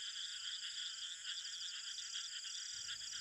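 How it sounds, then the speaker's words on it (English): A fungoid frog, Hydrophylax malabaricus, a common ground-dwelling frog of peninsular India's Western Ghats, calls in a rapid series of repeated croaks, faint and steady against a constant background chorus. "we will start with the fungoid frog, Hydrophylax malabaricus, which are one of the commonest ground dwellers"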